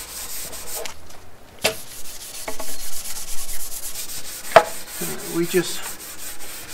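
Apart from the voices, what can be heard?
rubbing oil finish into a wooden floating shelf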